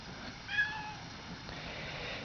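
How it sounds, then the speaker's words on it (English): A cat, not entirely white and with yellow on its tail, meows a few times at close range in a quiet indoor setting, with soft background noise and no talking. "I guess Boots is meowing at BB."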